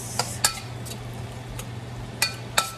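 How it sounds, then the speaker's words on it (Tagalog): Onion sautés in a pan for buttered garlic prawns with a soft, low sizzle. A few sharp utensil scrapes and clinks punctuate it at irregular intervals. "Susutiin natin ang sibuyas."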